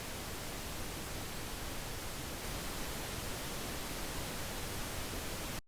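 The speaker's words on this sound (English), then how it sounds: "I will now turn on the direct signal, so the pink noise" A steady, unbroken wash of pink noise fills the whole stretch at a constant level, then cuts off abruptly at the end.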